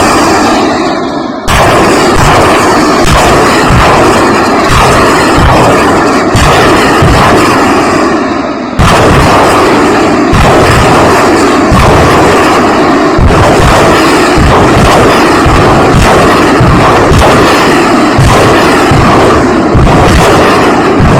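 Missile and artillery fire in a war zone around Kursk, Russia: a dense, very loud, continuous barrage of booms and blasts, repeated thuds over roaring noise throughout, no talk.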